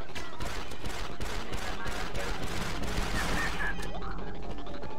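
Rapid DC-17 blaster fire from a Republic Commando mod of the Star Wars Battlefront 2 video game, played in first-person team deathmatch; dense overlapping shots crackle almost continuously for about five seconds under busy battle noise.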